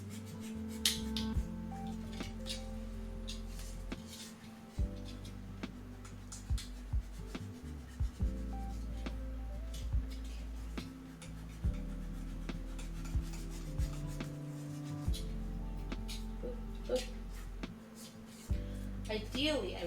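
A dull craft knife saws and rubs through craft material for a handmade Majora's Mask, giving repeated scraping, rasping strokes at close range with occasional knocks on the work surface.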